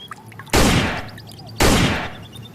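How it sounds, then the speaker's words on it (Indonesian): A toy MP5 gun fires two loud electronic bursts, each about half a second long with a slowly fading tail, close by and with no talking. "yang ini tembak-tembakan MP5"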